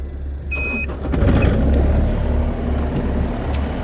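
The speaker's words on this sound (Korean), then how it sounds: "소리 들어보시면 아시겠지만 아주 조용하게 엔진음이 아주 조용하게 들리고 있고요" The engine of a 2019 3.5-ton mini excavator is started and settles into a smooth, quiet, steady idle. A low continuous engine drone plays close by with no voices.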